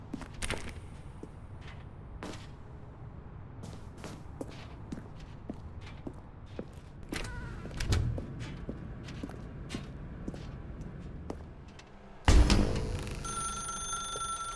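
A telephone rings in the video game The Stanley Parable, with a sharp electronic ring that cuts in loudly near the end over quieter scattered footsteps and clicks.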